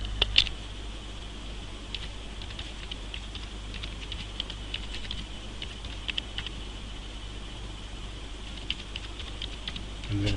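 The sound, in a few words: typing on a computer keyboard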